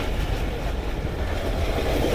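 Pakistan Express passenger train running on rails through the countryside: a steady, loud, continuous rumble of wheels and carriage noise heard from inside, with no voices.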